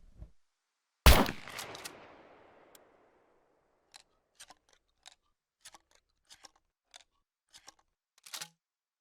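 A single loud shotgun blast in the game SCUM, trailing off into a short decay, followed by a scattered series of faint clicks and handling taps.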